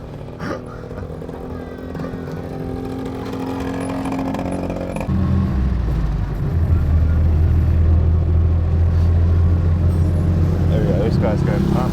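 Car engine rumble as a vehicle pulls away and drives, a low drone that deepens and grows louder partway through, with people talking over it.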